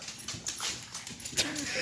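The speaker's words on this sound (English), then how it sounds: "now my dogs are attacking each other" Two dogs scuffling in an attack on each other, with short growls, snaps and yelping bursts at fairly low volume, heard without speech.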